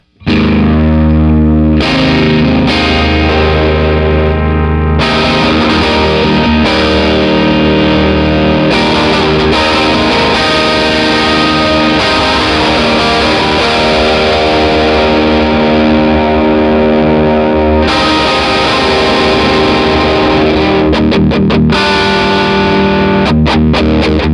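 Heavily distorted electric guitar plays loud, saturated chords and riffs continuously, thick and crunchy with occasional choppy stops.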